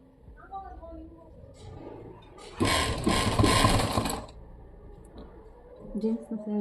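A sewing machine stitches a pocket onto a child's jeans in one short, loud mechanical burst of rapid stitching, with a person talking just before and after.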